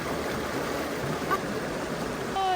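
Cold mountain river water near Chamonix rushes steadily, a dense, close, continuous wash of flowing water with no break.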